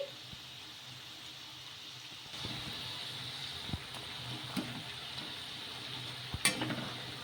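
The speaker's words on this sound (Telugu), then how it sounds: "ఇలా మధ్య మధ్యలో కలుపుకుంటూ రెండు వైపులా బాగా గోల్డెన్ కలర్ వచ్చే వరకు ఫ్రై చేసేసుకోవాలి" Rice bondas fry in hot oil as they are stirred, a faint, steady sizzle broken by a few soft scraping clicks from the utensil.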